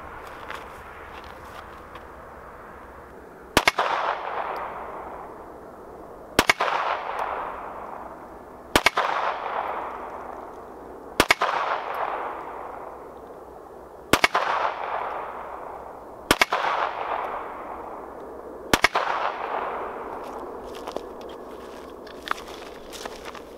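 Taurus Spectrum pocket pistol fired at a bench, seven sharp reports spaced roughly three seconds apart, each loud and followed by a short decaying ring, with no talking.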